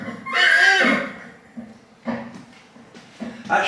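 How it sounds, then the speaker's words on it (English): A horse in the stables of the Woodhorn colliery museum in Northumberland gives one loud, close whinny, followed by several shorter snorts and rustles. "Our horses always get special treatment of the visitors and special interest"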